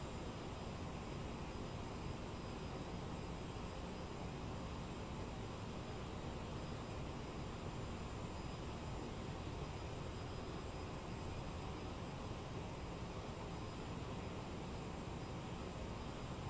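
A CRJ-700 jet cruises at 31,000 feet in a flight simulator, a steady, unbroken wash of broadband engine and airflow noise that holds at the same level throughout.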